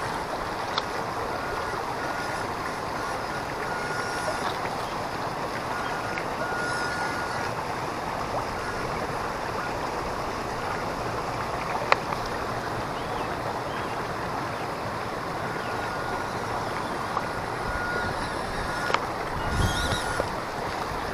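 A WPL C14 RC truck drives through water while submerged, giving a steady broadband wash of splashing and churning with a few brief louder splashes, continuous throughout and with no talk.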